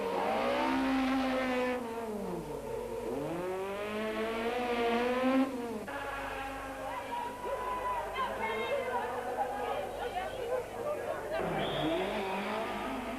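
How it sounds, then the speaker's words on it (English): A Ford rally car at the 1993 Algoa Rally spins its wheels through bends, the engine revving hard with tires squealing and skidding in long sweeping waves, loud and close, while a narrator talks over it. "Sarel must use sheer horsepower to wheel spin around bends."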